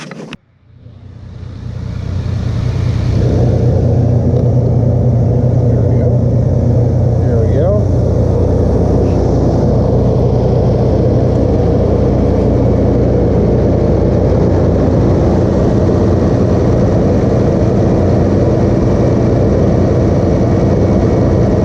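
A 1984 Kenworth C500 truck, unstarted for 20 years, cranks briefly and then settles into a loud, steady, low diesel rumble that holds for about twenty seconds.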